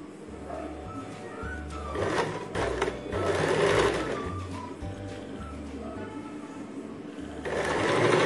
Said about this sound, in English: I will start stitching all around the bottom part.